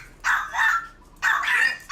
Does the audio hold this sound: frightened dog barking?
yes